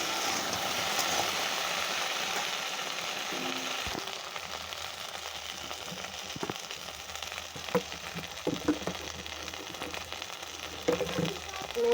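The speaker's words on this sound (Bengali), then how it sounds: "এইভাবে লাল লাল করে ভেজে নিতে হবে" Food sizzles in a pan while being fried reddish brown, a steady crackling hiss with intermittent clinks and scrapes of stirring growing busier toward the end.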